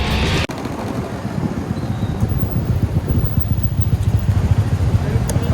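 Motorcycle riding through rush hour traffic, a steady close engine drone with wind rush and a pulsing low rumble running throughout, starting with a brief sharp knock.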